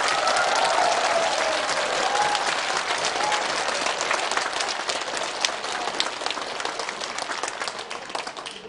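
A large audience at a Buddhist dharma talk led by a monk claps in dense, sustained applause that stays loud and fades slightly toward the end.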